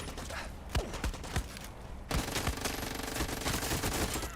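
Rapid machine-gun fire in the video game Far Cry 6, with scattered single shots at first, then a loud, dense sustained burst running through the last half.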